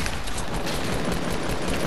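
An M16 assault rifle fires in a video game, a loud, dense stream of rapid shots that runs without a break and with no voices.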